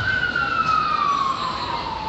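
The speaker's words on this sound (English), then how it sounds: "you can hear some sirens in the distance" An emergency vehicle siren wails steadily in the distance in New York City, its single tone slowly sliding downward over a constant background of traffic hum.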